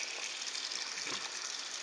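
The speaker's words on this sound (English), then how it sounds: "the best way to do it is have your water running a little bit on cool." Cool tap water runs steadily from a faucet while raw pork chitlins are rinsed and cleaned under the stream, a continuous near splashing gush with no talking.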